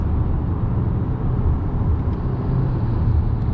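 Steady, close cabin drone of a 2022 Hyundai Santa Fe SUV with a 2.5 engine and 8-speed automatic on a test drive, with low road and engine rumble throughout and no talking.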